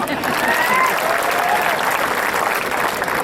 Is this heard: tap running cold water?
no